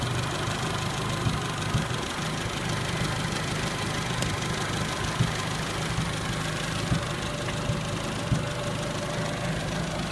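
A 1980 Chevy Luv's carburetor engine idling steadily, a low continuous hum with faint regular knocking ticks, heard close and alone without any talking.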